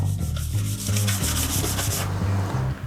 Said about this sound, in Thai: คาบแมลงก็ขัดไปเลย 600 ลงไปก่อน ขัดเบาๆนะครับ